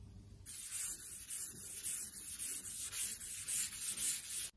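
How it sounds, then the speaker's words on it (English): Wet sanding paint on a 1967 Volkswagen Beetle gives a steady, close, rhythmic rasping scrub, each stroke swelling and easing over a few seconds, with no one talking. "I reckon with all this sanding going on"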